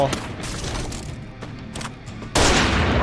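Bursts of gunfire in a Free Fire battle royale match fought on a rooftop, with repeated shots and rattling volleys that swell to a loud blast near the end. A voice talks over the shooting.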